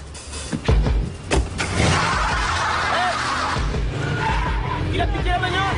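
A stolen car tears away with loud tire squeals and engine roar in an action film scene. A few sharp thumps open it, followed by a sustained screech, and voices talk over the noise.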